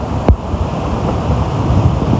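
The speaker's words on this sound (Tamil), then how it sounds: "சரிமாட்டு காற்று பாருங்க" Strong wind roars across the Bambarakanda hilltop in Haputale, buffeting the microphone with a loud, continuous rumble and one sharp gust burst near the start.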